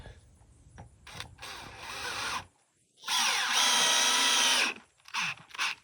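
Power drill driving deck screws into a wooden horse fence board: two loud, close bursts of whirring drill motor, the second longer, then a couple of short taps of the trigger, with quiet handling noise between.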